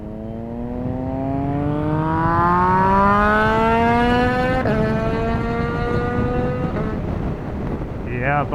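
A motorcycle with a CP3 engine rises in pitch as it accelerates past nearby, shifts gear, then climbs again, loud and close throughout.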